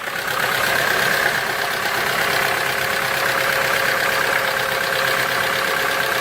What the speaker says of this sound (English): you'll start hearing a loud knocking noise from under the hood